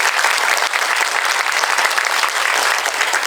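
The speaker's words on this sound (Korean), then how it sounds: "안수영 배우님께도 큰 박수 한번 부탁드립니다." An audience applauds actress Ahn So-young at a Netflix series special talk event, a full, steady wash of clapping from many hands, loud and even from start to finish.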